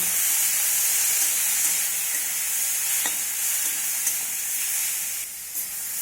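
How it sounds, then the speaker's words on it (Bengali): Potatoes and bitter gourd dusted with turmeric sizzle and hiss in a pan with a splash of water, a steady close frying crackle with faint stirring scrapes throughout, no voices. "যেহেতু গুঁড়ো মশলা দিয়েছি তাই অল্প একটু জল দিয়ে সব কিছু সুন্দর করে আমি কষিয়ে নেব"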